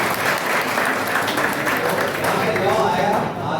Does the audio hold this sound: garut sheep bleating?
no